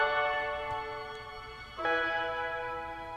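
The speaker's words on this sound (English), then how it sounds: "Here we have a piano." Piano sample in a music production track, a single sustained note fading before a second note strikes in, soft and alone.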